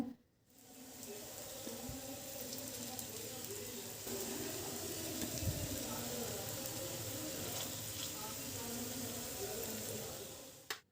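Rice-flour and potato pitha snacks fry in a little hot oil in a pan, giving a soft, steady sizzle that holds evenly throughout and is faint rather than loud.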